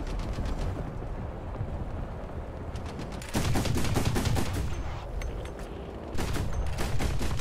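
Heavy gunfire from the War Thunder video game sounds as dense, rapid bursts. The volume surges around the middle and again near the end, with no voices.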